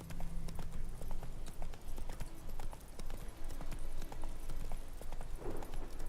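Horse hooves clip-clop at a steady trotting rhythm in the Witcher 3 game, close and clear throughout with a brief faint whinny-like swell near the end, no talk.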